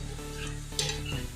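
Sweet pooris frying in hot oil, a steady close sizzle with a brief spoon or utensil scrape partway through, no voices.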